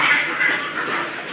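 Several ducks at a livestock market in Dubai quack continuously at close range, a busy overlapping chorus with no pauses.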